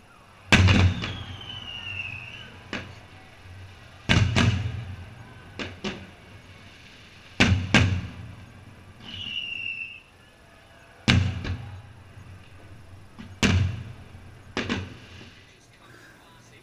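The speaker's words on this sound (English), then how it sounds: "we could see both the local fireworks in Manly Cove and the main show in the background" New Year's Eve fireworks over Manly Cove in Sydney Harbour, with sharp booming bursts every few seconds, some followed by crackling and rising whistles, heard from a distance across the water.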